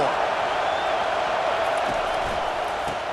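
Loud, steady roar of a football stadium crowd during a Michigan game on a third-down play, a dense continuous wall of noise with no breaks.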